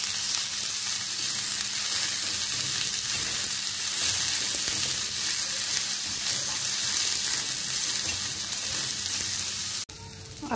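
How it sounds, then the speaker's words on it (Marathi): Onion frying in oil on a tawa griddle gives off a close, continuous crackling sizzle at an even level, then cuts off briefly near the end. "ताव्यावरती आपण कांदा टाकलेला आहे आणि त्यावर आता थोडंसं तेल टाकत आहे आणि छान लालसर असा हा कांदा आपल्याला भाजून घ्यायचा आहे"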